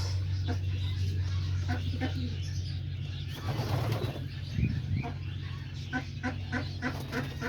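A homing pigeon beats its wings in a brief flurry of close flapping mid-clip over a steady low hum, with soft cooing and small bird noises scattered around it.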